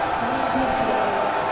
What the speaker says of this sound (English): Yes, the crowd is chanting choke.